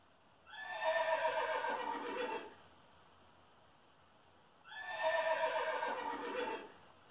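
Two loud, close horse whinnies, each a long descending neigh lasting about two seconds, separated by a short quiet pause, with no voices.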